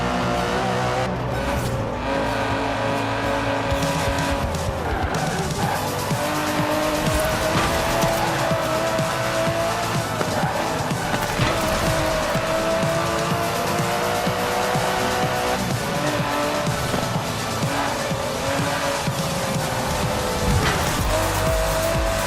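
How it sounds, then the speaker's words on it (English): An Aston Martin DB11 drives hard in the racing game Forza Horizon 4, its engine droning loud and steady for over twenty seconds, rising and falling in pitch through gear changes, with tire squeal and skidding through corners. "The DB11 is not the fastest car in the world, but then it's not trying to be."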